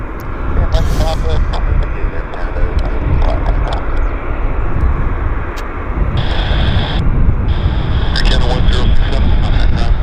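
A large Air Canada heavy airliner taxis at Vancouver airport, its jet engines a loud, steady, close roar throughout, while people talk over it and a radio chatters briefly.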